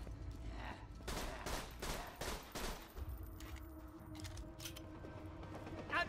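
Gunfire in Borderlands 2 mixed fairly low, a cluster of several heavy shots early on, then lighter sporadic bursts and mechanical clatter over a constant game background.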